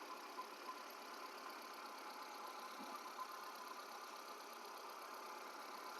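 A 2007 Hyundai Santro car engine idles in a steady, even hum with a faint, constant mechanical drone and no revving.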